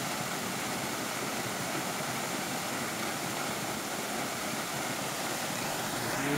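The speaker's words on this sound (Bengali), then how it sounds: "এই ঝর্ণার জল না শুনে থাকবো না" Rushing water from a waterfall in Sikkim along the route from Gangtok to Lachung, a loud, steady, broadband roar that continues unbroken with no voices.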